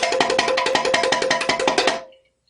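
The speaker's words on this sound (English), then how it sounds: "When I call rumble, R-U-M-B-L-E, it means play your instrument as fast as you possibly can." A handheld found-sound instrument struck as fast as possible in a dense, continuous rapid roll of sharp bright hits for about two seconds, loud and close, then stopping abruptly into silence.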